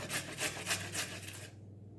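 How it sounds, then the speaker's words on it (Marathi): Amla, Indian gooseberries, rasped against a small kitchen grater in close, quick rubbing strokes, about four rhythmic scrapes in a row before the grating stops and the sound drops away. "किसनी अशी उभी धरायची आणि मग नंतर आवळा किसायचा"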